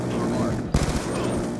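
Dense gunfire in a Call of Duty Black Ops 2 multiplayer match, a loud sustained burst of shots with a sharp crack partway through, heard behind game noise and some voice chatter.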